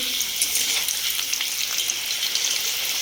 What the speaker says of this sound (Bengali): আলু বিরিয়ানির জন্য আলুটাকে ভেজে নিচ্ছি